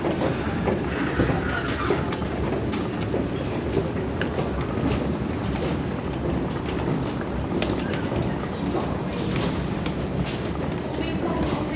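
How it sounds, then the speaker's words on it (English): A Stockholm metro train pulls into Gullmarsplan station, its wheels and carriages producing a steady, loud rumble and rattle that fills the platform without pause; no one speaks. "Here's our train."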